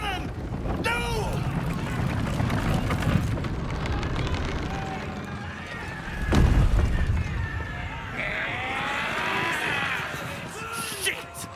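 A cannon booms once in Baldur's Gate 3 during a beach battle, a heavy close blast rising out of crashing surf, wind and shouting voices, with further clamour and chatter around it.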